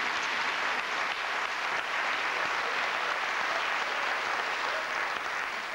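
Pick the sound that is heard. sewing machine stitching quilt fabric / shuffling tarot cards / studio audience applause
studio audience applause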